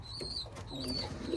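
Homing pigeons in a keeper's loft give soft, low coos, faint and somewhat distant, with a few thin higher chirps mixed in over quiet background noise.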